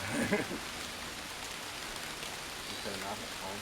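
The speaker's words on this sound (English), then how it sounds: "It's starting to rain now." Steady broadband hiss of rain falling outdoors, constant throughout, with a brief muffled voice near the start and end.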